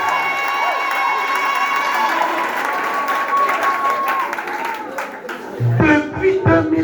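A church congregation in Bangui applauds and cheers in acclaim of the Lord, steady clapping and voices filling the room before a sermon voice breaks through near the end.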